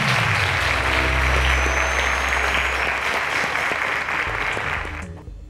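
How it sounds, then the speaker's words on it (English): Loud studio audience applause at a televised quiz show, dense steady clapping filling the room before fading out near the end. "A round of applause to Omar, ladies and gentlemen."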